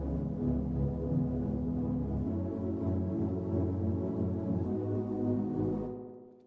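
808 bass in Ableton Live played without its mid-side EQ chain, a thick, droning low bass line with a note change partway through and a wider, muddier mix that fades out at the end, no voices.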